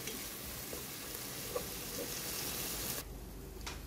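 Curry ingredients with coconut fry in a pot while being stirred, giving a soft, continuous sizzle that drops away near the end.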